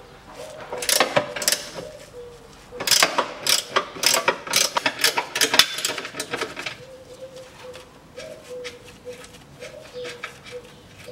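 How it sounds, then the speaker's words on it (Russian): Ratchet wrench with an extension clicks in rapid bursts and repeated strokes, turning a stabilizer bushing nut on a 2011 Toyota RAV4 2.0, loud and close, with pigeons cooing in the background. "И трещотка с удлинителем."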